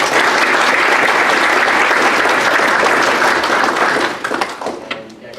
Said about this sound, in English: let's give a round of applause for his talk